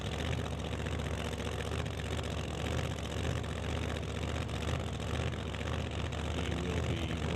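A supercharged 450 cubic inch drag racing car engine at an old-time drag strip, a loud, continuous rumbling idle with a steady low throb and no break.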